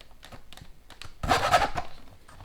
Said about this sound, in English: now we need a file, and just move out those areas